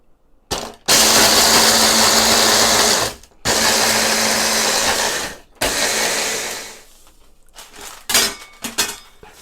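A food processor crushes Oreo cookies, filling left in, in three loud whirring pulses of a few seconds each separated by brief stops, followed by softer rattling and clinking of the bowl.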